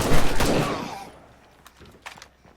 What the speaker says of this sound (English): It will take 6 shots from a 50 caliber rifle.